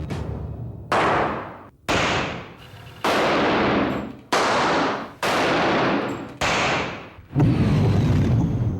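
Colt .45 pistol shots from World War II era service pistol testing, seven loud sharp reports spaced about a second apart, each with a sustained ringing decay, heard alone without speech.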